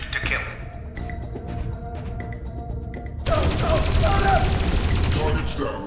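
Guards firing guns in the Dreamfall Chapters game inside a laboratory, a dense burst of rapid gunfire that erupts midway and continues loudly over an ongoing background of voices and game sounds.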